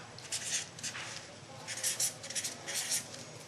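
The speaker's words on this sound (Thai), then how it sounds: "พี่เขียนให้ดูนะ" Marker or chalk strokes squeak and scratch across a board in uneven bursts, with short pauses between the strokes of the writing, close and moderately loud in a quiet room.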